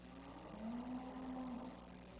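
Cattle at a livestock show in the Manitoba Ag Ex ring give a single drawn-out moo in the middle, moderately close, over a steady hall ambience.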